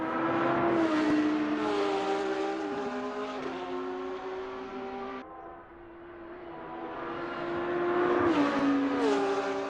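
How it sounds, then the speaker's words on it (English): GT3 race cars battle through the second carousel at the Nürburgring 24 Hours, loud engines droning close by with rising and falling pitch as they shift gears, one fading briefly before another swells back in. "a big fight here between two GT3s. Pushing into the second carousel"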